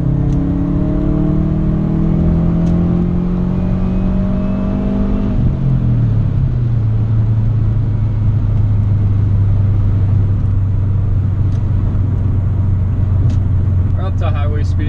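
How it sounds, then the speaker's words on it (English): Inside a 2013 Subaru WRX with a straight-piped exhaust, the droning exhaust rumbles steadily at about 70 mph, its low hum dropping in pitch as it shifts, with a person talking over it. "how the exhaust would sound inside the car"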